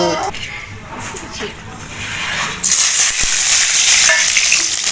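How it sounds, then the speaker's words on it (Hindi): Garlic and chili tempering crackles and sizzles loudly in a hot kadhai, a steady broadband hiss that jumps sharply louder partway through as the spices hit the oil. "हमन डालबो भी लहसुन मिर्चा के फोरन"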